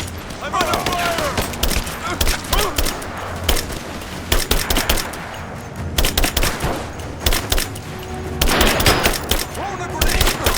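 Gunfire in the Rise of the Tomb Raider game: dense bursts of automatic weapon fire and scattered single shots, loud and close, continuing throughout with shouted combat voices in between.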